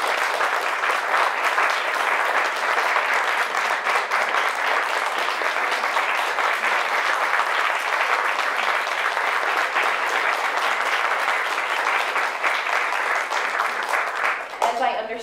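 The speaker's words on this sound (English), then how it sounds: "I want to invite the ensemble back onto the stage and to invite you to give us a round of applause" Sustained audience applause for a theatre ensemble returning to the stage, dense even clapping from a full house lasting about fifteen seconds and fading slightly at the end.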